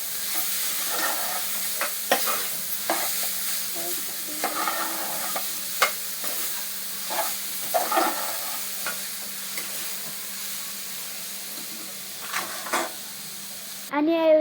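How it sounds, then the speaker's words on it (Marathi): Bhaji with spices being stirred and mixed in a pan, giving a steady frying sizzle with repeated scraping stir strokes at close range, with a brief voice near the end. "आता ती चांगल्या प्रकारे मिक्स करून घ्यायचे."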